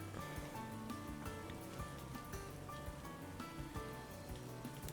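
Rain falls in the video game Atelier Yumia as a soft, steady patter and hiss that runs through the whole stretch, faint and even, with no voices.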